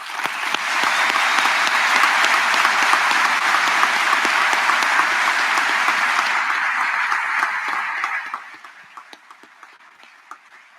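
Loud, dense applause from the crowd at a West Point graduation and awards ceremony for cadet candidates, rising quickly, holding steady for several seconds, then tapering off to a faint patter.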